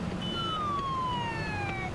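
Police siren from the video game SimCity 2013, a steady wailing tone that slowly falls in pitch, heard close and continuous over a low rumble of traffic.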